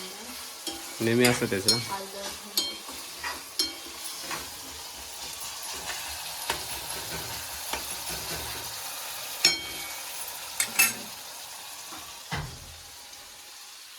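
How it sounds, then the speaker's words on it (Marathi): Tomato and onion tempering sizzles and gets stirred in a pan for a cashew curry, a steady low crackle broken by clinks and scrapes of the spoon, with brief talk in the background. "फोडणी दिले मस्त की टोमॅटो आणि कांद्याची"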